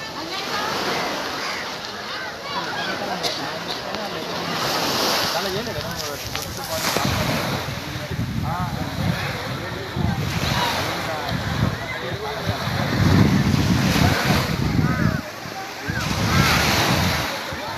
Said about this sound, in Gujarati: સેતુબંધ રામેશ્વર રામેશ્વરના દરિયા કિનારા ઉપર કોઈ દરેક યાત્રી આવે છે